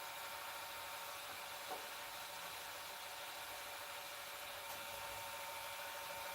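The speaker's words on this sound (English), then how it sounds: "Couple more grits of sandpaper to go here, 3 to be exact after this." Sandpaper pressed against a spinning pen blank on a lathe makes a steady, even hiss with a low motor hum beneath it, continuous and unbroken throughout.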